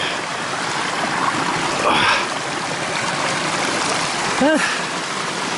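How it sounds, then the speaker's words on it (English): A mountain stream flowing along a hiking trail, giving a steady, close rushing and babbling wash with a brief voice-like sound near the end. "looks like I'm going back over the stream. Let's feel this water."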